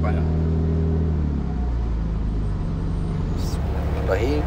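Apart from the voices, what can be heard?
Tuksedo Studio 300 SL Gullwing replica car driving, turning left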